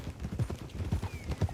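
Horse hooves clip-clop in a steady trotting rhythm while riding in Red Dead Redemption 2, close and moderately loud, with a brief neigh-like tone partway through.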